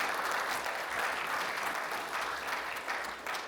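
Steady applause from a convention audience at a voice-actor panel fills the whole stretch, a dense, even wash of clapping that fades slightly toward the end.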